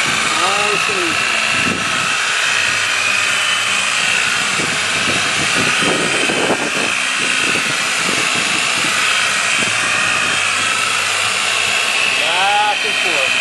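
Car polisher with a buffing wheel spinning steadily on paint, a loud continuous whirring hum throughout with small shifts in pitch and a few knocks. No speech is audible.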